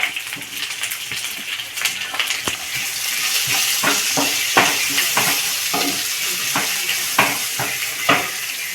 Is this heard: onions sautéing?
yes